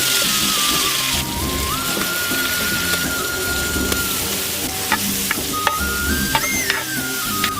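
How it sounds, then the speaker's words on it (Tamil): Onions sizzle and hiss steadily in ghee in a hot pan for chicken biryani, with occasional scraping and stirring clicks over the constant frying noise. "இந்த பாருங்கள், வெங்காயம் நல்லா வதங்கிருச்சு."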